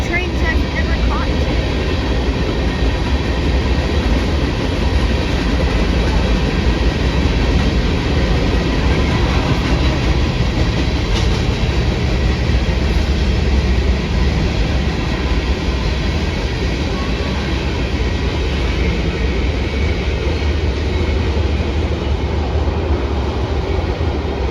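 A short freight train passing at Locust Grove, Georgia, producing a steady, loud rumble with faint rail clatter that holds unbroken from start to end, with no voices standing out.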